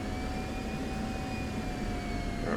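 A jet aircraft rolls for takeoff in the DCS World combat flight game. It makes a steady, loud engine roar with thin whining tones running through it, constant from start to finish.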